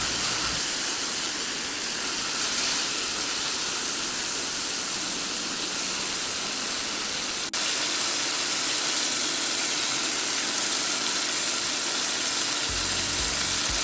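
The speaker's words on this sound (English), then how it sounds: "So we're just braising these right here and getting braised on all the oxtails" Oxtails braising in olive oil and brown sugar give off a steady, loud hiss of sizzling that runs unbroken for the whole stretch, broken only by one brief click partway through.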